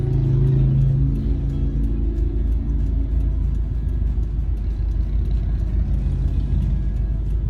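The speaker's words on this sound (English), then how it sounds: "Where this car really pulls good is you get it in second gear and you get all that torque." 2010 Subaru Impreza STI wagon with a six-speed manual accelerating hard in gear, a loud low engine rumble and droning exhaust heard from inside the car, rising in pitch after a brief drop near the start.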